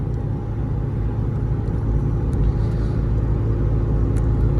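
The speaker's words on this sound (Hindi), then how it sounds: "90 की स्पीड मैंने पकड़ ली है, सब छोड़ दिया, क्रूज कंट्रोल पे सेट।" Steady low rumble and road noise from inside a Mahindra XUV500 cruising at about 90 km/h on cruise control in sixth gear, constant and even throughout with no voices.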